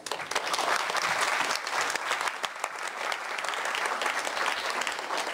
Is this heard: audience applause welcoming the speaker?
yes